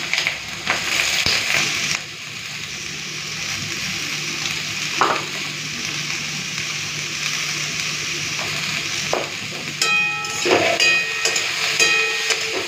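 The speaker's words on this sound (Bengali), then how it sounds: "তেলটা গরম হয়ে গেছে, কেটে রাখা আলু আর পেঁয়াজটা দিয়ে দিচ্ছি" Sliced potatoes and onion sizzle steadily in hot mustard oil, a continuous frying hiss broken by a few sharp clanks and scrapes of stirring, with no talking.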